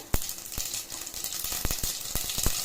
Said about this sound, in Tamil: எண்ணெய் சூடானதும் கடுகு சீரகம் தாளிச்சிட்டு